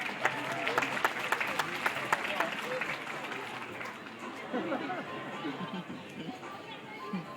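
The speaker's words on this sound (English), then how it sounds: "Oh, maybe a little golf clap" Scattered, light golf-clap applause from a zoo audience at the Taronga Zoo seal training show, mixed with crowd chatter and children's voices throughout.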